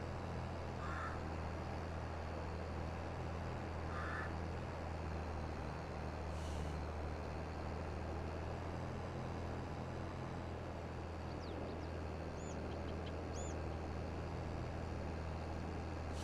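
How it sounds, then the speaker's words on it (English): A big truck drives past loudly near a cotton-planting field, its heavy low engine rumble steady and dominant throughout, with faint tonal squeals and chirps showing briefly above it. "That big truck was loud"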